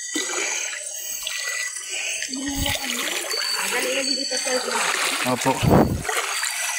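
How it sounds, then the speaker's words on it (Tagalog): River water splashing in a shallow stream where a boy gathers shellfish, with irregular close splashes and trickling over running water, and people talking over it. "Nandito po yan sa ilog."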